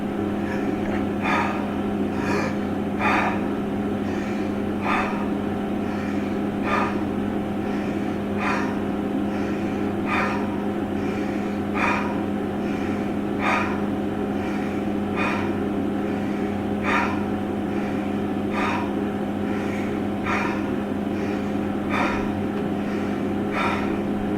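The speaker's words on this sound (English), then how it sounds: "So, let's test heavy breathing." Heavy breathing through a washable fabric face mask, steady rhythmic inhales and exhales repeating every second or so, close and continuous under a constant background hum.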